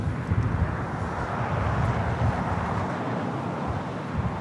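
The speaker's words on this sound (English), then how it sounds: "This is Lufthansa 457 taking off to Frankfurt on the 747-8 Intercontinental Yankee Hotel." A Lufthansa Boeing 747-8 Intercontinental takes off at Los Angeles airport, a loud, steady broadband jet roar with some wind buffeting. The roar continues evenly with no clear rise or fall.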